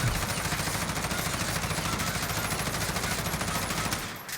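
An M4A1 fitted with a Commando barrel fires in Warzone as a sustained automatic burst, rapid evenly spaced shots rattling loud and close for about four seconds before cutting off.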